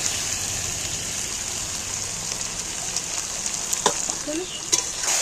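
Chicken added to onions already frying in a pan, a steady close sizzle with a few faint clinks and scrapes, no talk.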